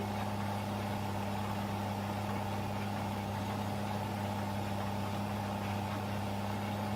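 Steady tractor engine drone from a Challenger pulling a wide canola seeder across an old cornfield in Farming Simulator 15, a continuous low hum with a strong fundamental and overtones, unchanging and alone throughout.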